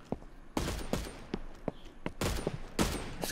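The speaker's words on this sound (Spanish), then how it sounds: "Escucho disparos, sí, pero no veo a nadie para dispararle." Gunfire in a shooter video game: a string of loud, sharp shots in quick bursts, some near and some farther off, with no talk over them.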